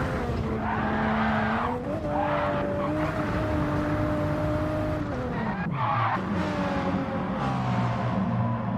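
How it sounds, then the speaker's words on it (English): A Toyota race car spins wildly out of control in a racing video game, its engine tone swooping and dropping with tire squeal and skidding, loud and continuous amid other cars' engine drone. "Car in front is the Toyota spinning wildly out of control"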